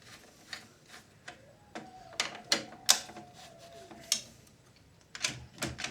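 Small screws come out of the cassette carriage of a Sharp VC-381H VCR, a series of sharp metallic ticks and clicks from a screwdriver at close range, with a brief thin squeak partway through.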